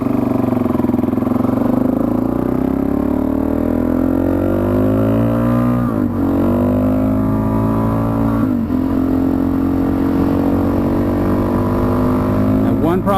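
Suzuki DRZ dual-sport motorcycle riding on the road, its engine droning loudly with rising and falling pitch through gear changes and short throttle blips, wind noise close to the rider, with a voice talking over it.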